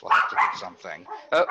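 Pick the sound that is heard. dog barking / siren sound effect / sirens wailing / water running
dog barking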